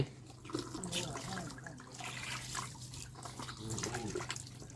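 Water sprayed gently over a stray dog during its bath, a continuous splashing hiss with dripping, close by, while a person talks softly over it.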